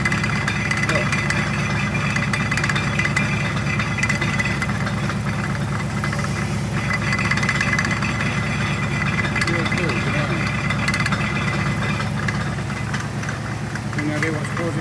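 A car engine runs steadily at a moderate level while the drivetrain rattles in second gear. Faint knocking repeats throughout, with no clear pauses.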